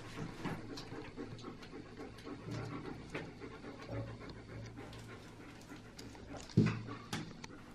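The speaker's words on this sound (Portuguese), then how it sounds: "Tem até cachorro aqui, ó." A dog panting close by indoors in a small cramped studio, quick rhythmic breaths with faint whimpers and a brief bump, quiet throughout with no speech.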